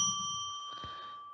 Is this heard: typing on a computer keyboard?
no